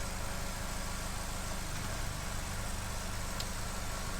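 A 2015 Vauxhall Corsa E petrol engine idles roughly with a lean fuel fault, giving a steady, close, continuous low engine drone with a shuddering texture and no talk over it.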